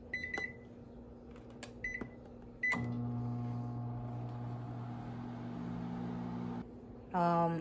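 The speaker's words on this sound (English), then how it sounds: "you heat it inside the microwave" Beeps from keypad presses, then a microwave oven hums steadily for several seconds before stopping, followed by a short burst of completion beeps.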